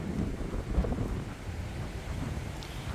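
Strong wind in Wellington buffets the microphone with continuous heavy rumbling gusts, loud and close, with no voices.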